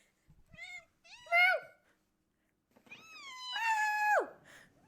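A cat meows close by, twice: a short rising call, then a longer, drawn-out meow that drops sharply in pitch at the end, with silence between the two.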